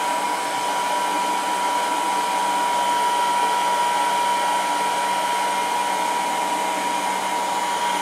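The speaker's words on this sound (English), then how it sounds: "start forming our pockets by heating up the bucket with a heat gun" Heat gun blowing on a plastic five-gallon bucket, a loud, steady whirring blast with a constant whine that holds unchanged throughout, with no voices.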